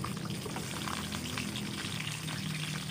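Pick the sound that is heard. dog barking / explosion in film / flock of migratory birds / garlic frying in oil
garlic frying in oil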